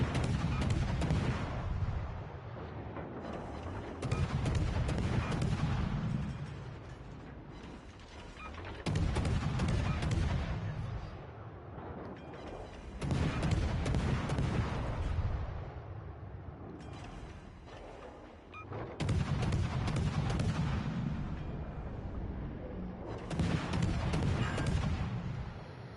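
Heavy naval gunfire in a warship video game, a destroyer's guns firing at an enemy warship: deep booming salvos about every four to five seconds, each rolling and rumbling before the next, loud and continuous with no talk.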